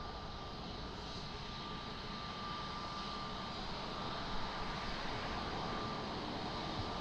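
An airliner landing at Lisbon Airport, heard as a steady, continuous engine roar with broadband rushing noise that holds at an even level for several seconds and swells slightly near the end, with no talk over it.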